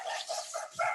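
A pet dog barks indoors, a few short, fairly loud yaps in quick succession, with no talking.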